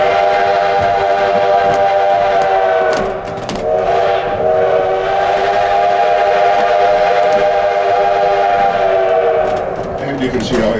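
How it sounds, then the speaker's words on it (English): A steam locomotive, Engine 7 on an 1880s-style tourist railroad at Keystone, South Dakota, sounds its whistle for a grade crossing: loud, close sustained harmonic toots in a long-long-short-long pattern, with a brief break near the middle, filling the clip alone. "The whistle you just heard is the first crossing signal in this direction."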